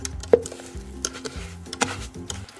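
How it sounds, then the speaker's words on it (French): A spoon stirs breadcrumbs into a crumble mixture in a bowl, producing close, irregular scraping and soft clinking knocks spread across a few seconds with no talk. "On va mélanger."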